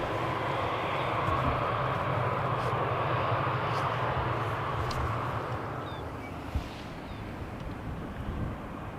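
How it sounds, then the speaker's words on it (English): An Embraer jet arriving at Amsterdam Schiphol on runway 18R, a broad steady engine roar that holds loud and then eases slightly as it passes, with wind buffeting on the microphone. "Here is the next Embraer."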